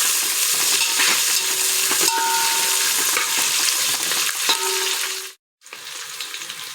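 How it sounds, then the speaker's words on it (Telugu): Onion and mint leaves frying in a pan for bagara chicken curry, a dense sizzle with scraping spoon strokes and a brief drop to near silence before the frying resumes. "ఆనియన్, పుదీనా వేసుకోవాలి. ఇలా కలపాలి ఒకసారి."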